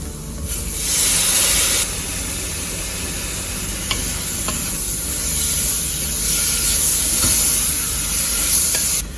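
Tomatoes sizzle and hiss in hot oil with biryani masala for a veggie biryani, a loud, continuous frying crackle with steady stirring.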